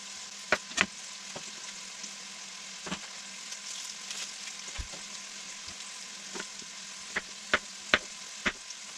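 Pot roast meat and sliced onions sizzle quietly while browning in a pan, a soft steady frying hiss broken by sharp scattered pops and crackles, no talking.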